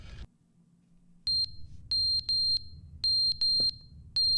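A smoke detector in the video game The Stanley Parable shrieks in sharp, piercing beeps grouped in quick bursts separated by short gaps, loud and near, following a brief burst of noise and a low hum.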